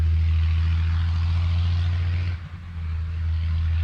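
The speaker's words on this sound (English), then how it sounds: "Can you hear the truck or the farm equipment? It's getting louder." Truck or farm machinery on a rural road along the Bruce Trail, a loud, steady low engine drone with a brief dip partway through before the rumble resumes, heard outdoors without speech.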